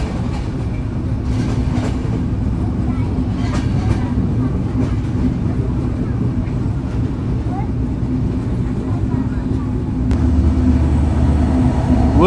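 A passenger train on the Madhumati Express run, in an LHB coach, passes a white Chinese-built inter-city rake at Abdulpur Junction. Steady rumble and wheel clatter go on throughout and swell toward the end. A voice speaks over the train noise.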